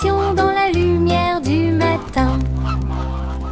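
Several geese honk loudly in a series of drawn-out, nasal calls, close and overlapping, with short pauses between groups of honks.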